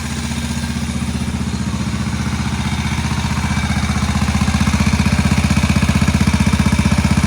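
An old Moto Guzzi motorcycle engine, started after long storage in a shed, idles loudly nearby, a rough, rapid, even chugging that grows slightly stronger over several seconds.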